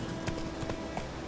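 Hooves of a galloping horse in The Witcher 3 video game drum in quick clip-clop beats, faint and close, with a low background rumble.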